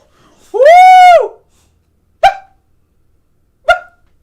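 A dog vocalizes close by: one long whining howl followed by two short sharp barks spaced apart, with silence between.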